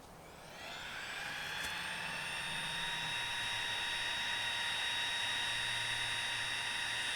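Small battery-powered pump inflating a lightweight backpacking sleeping pad inside a tent on an early spring solo canoe camping trip; a steady, close whirring drone starts and runs continuously, its pitch shifting slightly partway through, with no talking.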